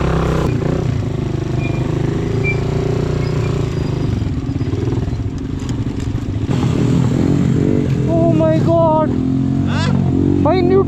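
A motorcycle engine rumbles steadily on a mountain road to Panjpeer Top, Pakistan, with clattering and scraping, and someone talks over it near the end.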